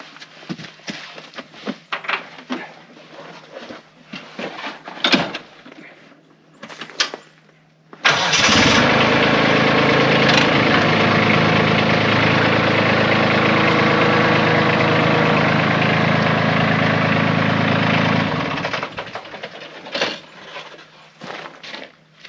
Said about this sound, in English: I'm going to move the tractor forward